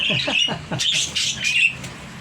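A trained pet bird gives a run of loud, close squawks and chirps in a quick series. A few short vocal sounds are mixed in at the start.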